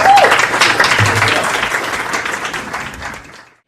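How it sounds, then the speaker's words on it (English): A short burst of audience applause for speakers at a leaders forum is loud and dense at first, then tapers off and ends abruptly. "Let's have a round of applause for our two other speakers."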